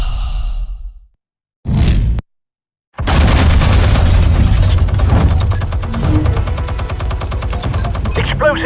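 Explosives firing in the Batman Telltale Series game on Xbox Series X: a brief whoosh, then after a short silence a loud burst of booming blasts and rapid gunfire-like crackle that rolls on continuously under a dense, busy game soundtrack.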